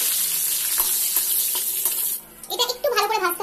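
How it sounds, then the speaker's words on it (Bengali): Peanuts fry in a pan with a dense, close sizzle that runs for a couple of seconds, then gives way to a brief, uneven stir and a faint voice at the end. "এটা একটু ভালো করে ভাজতে হবে, চিনে বাদাম ভাজতে একটু সময় লাগে কাজু কিশমিশের থেকে"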